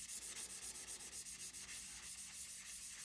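Hand sanding to strip a coating, a quiet, close, rhythmic rasp of rapid back-and-forth strokes repeating about four times a second, with no voices.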